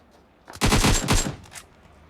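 A loud spray of automatic gunfire in the mobile battle royale game Battlegrounds Mobile India, a dense rattling burst of about a second followed by a couple of fading shots.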